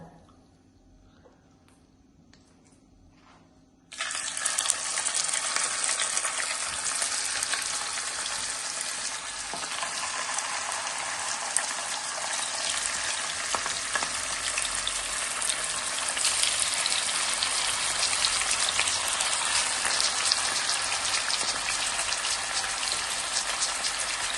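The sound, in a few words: chicken pieces frying in hot oil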